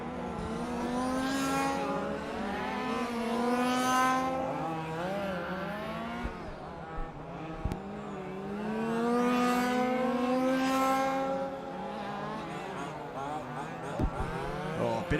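A 1/5 large scale Repsol Mini race car laps a track at a FEMCA championship, its buzzing engine whining up and down in repeated rising and falling revs, close and steady, with brief dips between bursts of acceleration.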